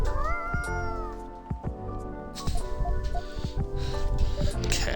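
A cat meows in the Coffee Talk video game, giving several close, loud drawn-out mews and caterwauls mixed with soft rustles and short clicks, with no voices.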